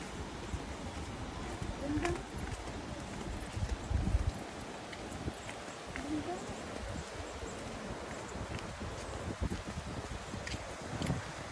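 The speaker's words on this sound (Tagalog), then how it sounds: "kabayo yung ginagamit nila pan-transport ng mga goods" Horse hooves clip-clopping along a trail where horses carry goods, a steady rhythm of soft irregular thuds under constant outdoor noise with insects and rustling, moderately distant.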